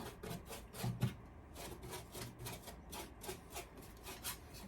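Paint being rubbed into a 1/6 scale StuG Ausf G model: soft, quiet, repeated scrubbing strokes, close by, in a fairly even rhythm.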